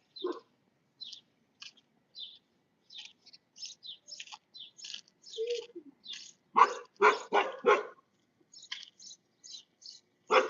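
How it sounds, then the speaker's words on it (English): A dog barks repeatedly in short, sharp bursts at moderate distance, with scattered bird chirps between the barks and a quiet indoor background. "The dog's barking."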